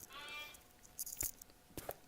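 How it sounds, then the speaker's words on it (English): A newborn baby lamb just outside a room gives a faint, drawn-out bleat, followed by scattered soft knocks and clicks nearby. "the lamb is the one you can hear"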